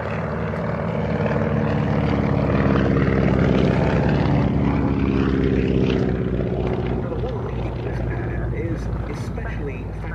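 Boeing B-17 Sally B, a four-engine wartime propeller bomber built for the US Army Air Forces, drones loudly and steadily throughout with layered engine tones, a voice talking over it.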